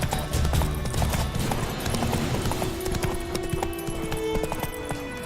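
Hooves of Roach, the horse in The Witcher 3, clip-clopping at speed in a steady close rhythm over ambient game sound, with a long low tone sustained partway through.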